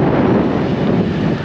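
Steady wind buffets the microphone at a harbour as a Broom 41 motor boat casts off with engines running, a continuous loud rushing roar with no talking.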